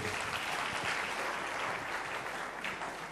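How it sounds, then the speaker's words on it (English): An audience at an evening lecture event claps loudly and continuously, a dense, even wash of applause filling the room with no speech over it. "Let's clap very well."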